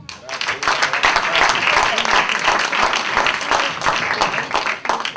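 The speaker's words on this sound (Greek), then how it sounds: "ένα χειροκρότημα τους αξίζει" Sustained audience applause fills a hall at a Macedonian cultural month event, loud and dense clapping from many hands continuing steadily, with a voice briefly audible beneath it.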